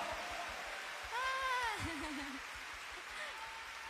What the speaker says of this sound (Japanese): 改めて大きな拍手を